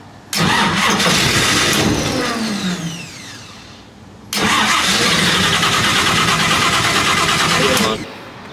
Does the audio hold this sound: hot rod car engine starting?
yes